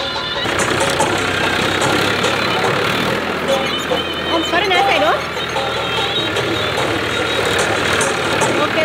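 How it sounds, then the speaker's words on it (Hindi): A farm tractor's engine runs continuously at close range, a rough, steady rumble with clattering texture that holds under a person talking. "और वहाँ से पापा आ रहे हैं ट्रैक्टर लेके"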